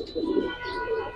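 Pigeons cooing in a loft of Giribaz high-flyer birds, soft low throaty coos close by, repeating in short phrases with a faint chirp above.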